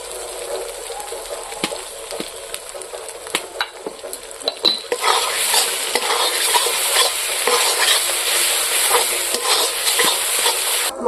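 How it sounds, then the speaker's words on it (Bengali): Spice masala sizzles and fries in oil in a pan for koi fish, with sharp stirring scrapes and clinks throughout; the frying hiss grows louder and denser about halfway through, close up and without talk. "মশলা ভাজানো হয়ে গেছে"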